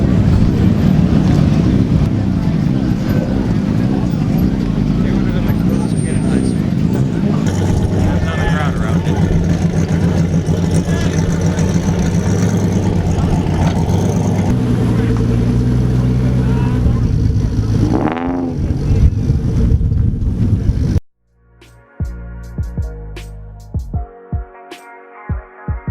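A Midnight Purple Nissan 300ZX pulls up at a Japanese classic car show, its engine rumbling steadily up close. Buffeting wind noise sits over the engine until the sound cuts off abruptly near the end, leaving scattered sounds and people talking.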